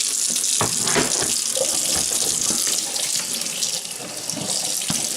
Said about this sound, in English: Let's just put it in here and rinse it off.